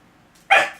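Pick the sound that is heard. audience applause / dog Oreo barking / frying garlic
dog Oreo barking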